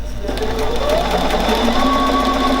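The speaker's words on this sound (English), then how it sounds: "we can have it tie off on the spot, trim the threads and raise the presser foot" A Bernina 770QE sewing machine runs at a steady, continuous whirring hum while stitching, tying off and trimming threads, with a rising whine partway through.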